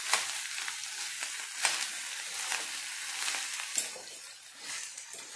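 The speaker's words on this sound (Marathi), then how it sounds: "आपण या पद्धतीने ते तिला छानपैकी तेलामध्ये फ्राय करायचे" Shredded cabbage frying in oil, with a soft steady sizzle and regular stirring scrapes of a spoon in the pan, quiet and close with no talking.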